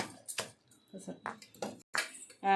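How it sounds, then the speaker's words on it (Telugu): Green chillies and salt pounded for bhindi chutney in a stone mortar, a series of sharp, irregular knocks and clacks at close range, separated by short pauses. "పచ్చిమిరకాయలు ముందు వేసి కొంచెం ఉప్పు వేసి దంచాలండి"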